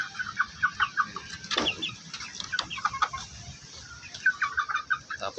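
Dong Tao cross Darag chickens clucking close by, a run of short, repeated clucks and calls in uneven bursts over a low farmyard background.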